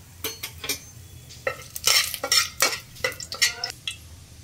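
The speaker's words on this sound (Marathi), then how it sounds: "तेल गरम झालेलं आहे। आता आपण याच्यात खडे मसाले टाकून घेऊयात।" Whole spices (half a cinnamon stick, star anise, bay leaf and green cardamom) are dropped into hot oil for chicken dum biryani, giving a run of sharp clinks, rattles and crackling sizzle bursts with no talking.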